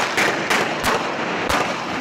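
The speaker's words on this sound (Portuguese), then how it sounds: "repare novamente na quantidade de tiros disparados contra essa casa" Gunfire aimed at a house, several sharp broadband shots ringing out about a second apart over a steady noisy background, loud and close, with no talking.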